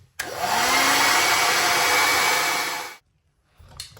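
A hair dryer blows steadily and loudly on a repaired patch of damaged fiberglass shower wall, running for about three seconds with a rising whine before switching off abruptly into silence.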